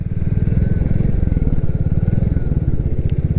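A new 2022 Royal Enfield Classic 350 single-cylinder motorcycle rides along a road with a steady, loud, even thumping exhaust beat throughout, close up and with no talking.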